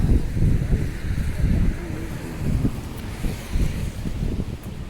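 Gusty wind on a downtown street buffets the microphone in uneven rumbling surges that rise and fall throughout, with no one speaking.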